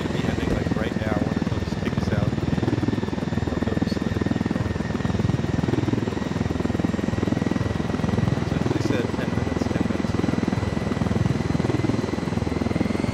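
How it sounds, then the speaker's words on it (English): A helicopter runs in a military open-world shooter game, a steady rotor and engine drone holding throughout at constant level, with players talking over it. "now we just gotta take the chopper"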